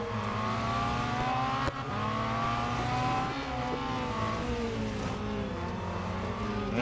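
Racing cars in Real Racing 3, with a steady layered engine drone from several cars at once, a sharp click near the start and small pitch shifts as the pack runs on, with no voices.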